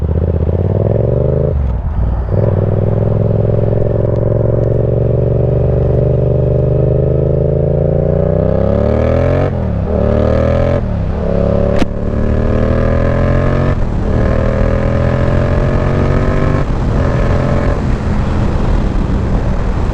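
A tuned Yamaha FZ motorcycle rides on the road, its engine droning steadily and rising in pitch as it accelerates, close and loud throughout.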